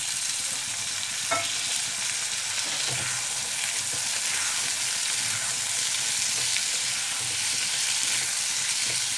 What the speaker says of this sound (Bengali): এবার আমি এতে এই আলুগুলো কেটে রেখেছি দিয়ে দিলাম